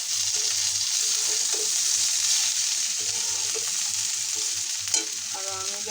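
Bitter gourd frying in oil in a wok, a steady close sizzle with intermittent scraping stirs and a sharp clink near the end.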